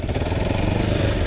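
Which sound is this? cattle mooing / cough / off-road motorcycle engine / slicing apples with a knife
off-road motorcycle engine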